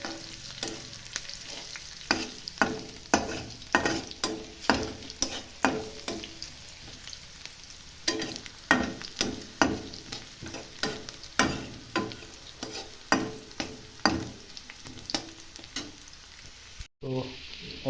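Curry leaf tempering fries in a pan for egg curry, with a steady sizzle under repeated scraping stir strokes that come in a loose rhythm throughout, close and fairly quiet, with no talking.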